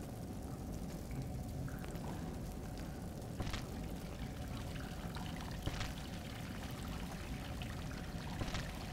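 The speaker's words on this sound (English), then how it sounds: "follow where the water is dripping to survive" Water trickles and drips steadily in an underground area of the video game Salt and Sanctuary, a continuous close wash of flowing water broken by a few sharper drops, with no voices.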